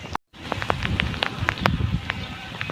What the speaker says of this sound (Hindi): बारिश हल्की हल्की बूंदाबांदी हो रही है